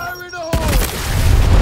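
Grenade blast in Gears Tactics bursting out suddenly after a quiet moment, loud and broadband with a heavy low rumble that swells and lingers, following a brief voice.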